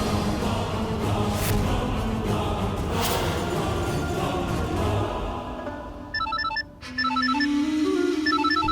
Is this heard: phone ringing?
yes